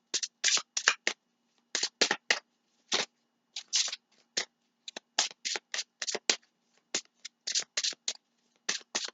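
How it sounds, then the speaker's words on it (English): Tarot cards are riffled and shuffled by hand in quick bursts of crisp, papery flutters separated by short pauses, close and clear with no talking. "Three more shuffles."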